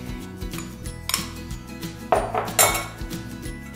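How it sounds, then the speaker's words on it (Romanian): Potatoes and cubed butter are mashed together in a pot for duchess potatoes, giving scraping and clinking metal-on-pot knocks in an irregular rhythm, close and fairly quiet, with a few sharper clanks. "Și voi pasa împreună cu cartofii."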